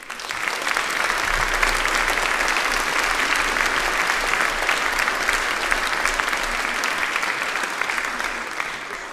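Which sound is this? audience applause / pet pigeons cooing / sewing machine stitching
audience applause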